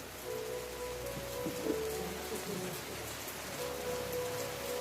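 Heavy rain drumming steadily on a surface during a church service, a dense continuous patter with faint low rumbles and a few brief tones mixed in.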